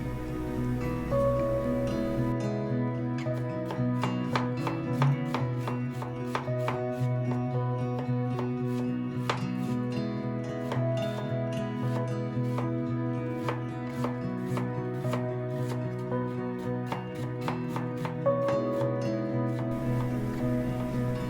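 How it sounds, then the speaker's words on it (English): A knife chops green onion into fine rounds and slices onion on a cutting board, making rapid, even, close knocks that repeat steadily for the whole stretch, with faint background hum. "Finely chopped green onion. トッピングの青ネギは小口切り。 And slice the onion."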